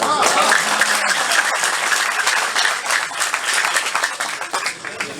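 Sustained loud applause from an audience at a Pashto poetry recital (mushaira), dense clapping filling the whole stretch with a faint murmur of voices beneath.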